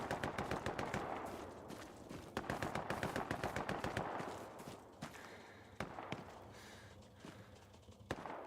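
Gunfire in the World War II shooter game Hell Let Loose, with rapid automatic bursts of sharp shots in the first half, then scattered single reports, loud and close.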